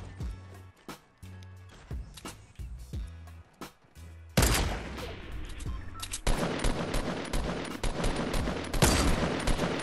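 Rapid bursts of Fortnite gunfire crack out in a duo squads wager match, sparse single shots giving way to dense, loud sustained volleys in the second half.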